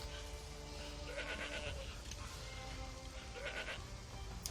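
A goat in the video game ArcheAge bleats twice, a short nasal call and then another a couple of seconds later, over a steady game background.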